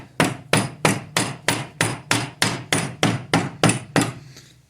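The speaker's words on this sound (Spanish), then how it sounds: "ahora como para que vean, vamos a ir golpeando" A hammer strikes a car alternator to knock it apart, about a dozen sharp, loud blows at a regular, steady pace, close by, with no talking.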